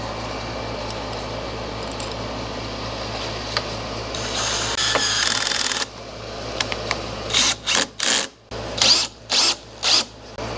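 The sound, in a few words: power drill pre-drilling a hole in thin sheet metal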